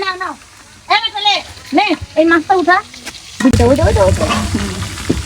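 Fish sizzles in oil over a clay stove, a hissing fry that swells to a fuller, louder crackle partway through while a voice talks over it.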